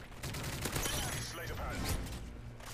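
AK rifle fire in Modern Warfare 3, dense and continuous, with rapid shots blending into a loud, busy wash of game sound for a few seconds.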